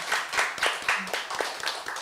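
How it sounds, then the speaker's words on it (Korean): An audience at a talk with a singer claps briefly, a handful of loose, uneven claps in a quick burst, fairly close and moderately loud. "박수 한번 주세요"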